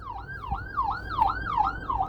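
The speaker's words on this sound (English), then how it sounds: "oh, that was the ambulance, guys." An ambulance siren outside, wailing in a rapid repeating up-and-down sweep about every third of a second, loud and clear over a low rumble of traffic.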